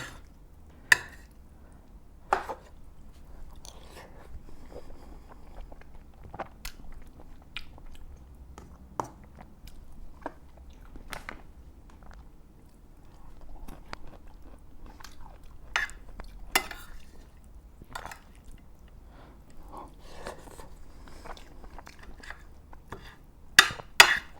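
Home-cooked Turkish food, including stuffed dolma, eaten with a spoon up close: soft chewing and biting with scattered clicks of the spoon against the dish, steady and quiet over a low hum.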